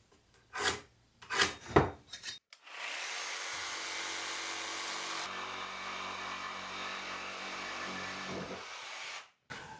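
A saw rasps steadily through a piece of 3x2 timber, one continuous loud cut of about seven seconds that follows a few knocks and handling sounds.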